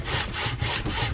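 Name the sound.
rubbing stain into wood with a rag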